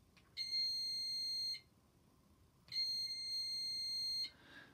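A small electric buzzer in a simple battery circuit closed by a paper clip gives two loud, steady high-pitched tones, each lasting over a second, separated by a short silence, with no talking.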